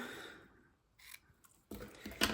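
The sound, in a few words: ribbon scissors cutting ribbon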